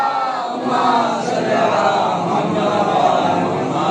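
A mourning-gathering crowd chants the Nara-e-Haidari slogan at a majlis, a dense, loud, continuous wall of many voices shouting together in unison.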